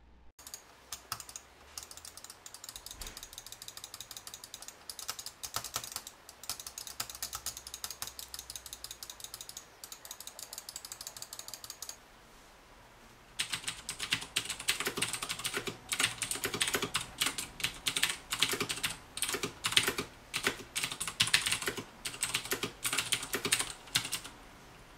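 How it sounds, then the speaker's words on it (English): Steady typing on a WASD custom mechanical keyboard with Cherry MX switches, a dense run of clicky keystrokes at close range, quieter for the first half and then louder and brighter for the rest, with no talking. "to get more of an accurate representation of the sound of the keyboard, go ahead and adjust your speaker volume"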